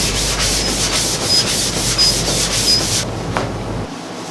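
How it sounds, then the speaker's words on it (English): Sandpaper rubs back and forth across a wooden Ikea Tarva dresser in rhythmic close strokes, several passes in a row, then a brief pause and a lighter final scrape. "This morning, I just came out and sanded my dresser down"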